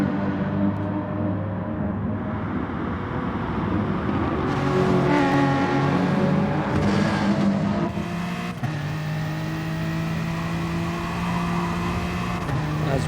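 Race cars in GT Sport at the Alsace track roar continuously with layered engine tones and shifting revs, several cars close together, loud and steady throughout.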